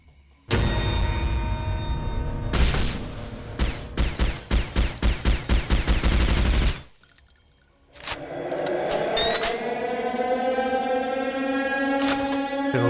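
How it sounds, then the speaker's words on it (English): Bursts of assault rifle fire in a first-person video game, rapid repeated shots in loud clusters with a brief pause, followed by a sustained droning tone. "Some sort of assault rifle."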